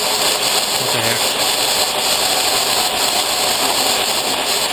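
A milling machine slowed down for a larger-diameter cutter runs steadily while cutting splines with coolant flowing, a continuous broadband whir and hiss at even level throughout with no pauses.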